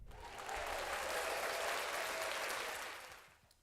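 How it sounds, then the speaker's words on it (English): A round of applause swells in, holds as a dense, even wash of many hands clapping, then tapers off near the end, with no voices over it. "round of applause"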